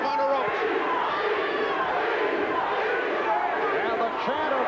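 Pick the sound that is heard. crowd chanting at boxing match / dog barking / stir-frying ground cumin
crowd chanting at boxing match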